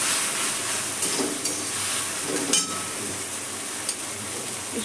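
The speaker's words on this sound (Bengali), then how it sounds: "সেটাকে একটু জল দিলাম ভালো করে কষিয়ে নিচ্ছি" A ground mustard and poppy seed paste loosened with a little water sautés in a pan, giving a soft steady sizzle broken by a few scraping stirs and light clinks of a utensil against the pan.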